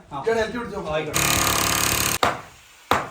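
A power tool cuts during a Tata steel door installation, a harsh, loud, steady grinding roar lasting about a second after brief speech, then short sharp bursts.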